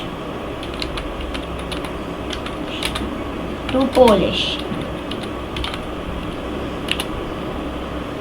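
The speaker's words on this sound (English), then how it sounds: "Now here we are going to be typing in appetizers." Steady, quick keystrokes tap away on a computer keyboard, close and clear, with a short louder flurry midway; a person speaks briefly over the clicking.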